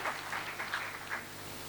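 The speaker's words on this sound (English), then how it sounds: "On applaudit." Audience applause fills a high-level African counter-terrorism meeting, a steady patter of clapping from the hall that stays fairly faint and continuous throughout, with no voices over it.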